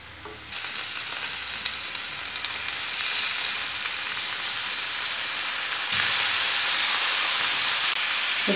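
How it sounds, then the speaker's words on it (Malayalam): Cleaned chicken pieces hit hot frying masala for a Kerala chicken curry, setting off a loud, steady sizzle that swells in a few surges, heard close and with no talking. "ഇനി വൃത്തിയാക്കി വെച്ചിരിക്കുന്ന ചിക്കൻ ചേർക്കാം"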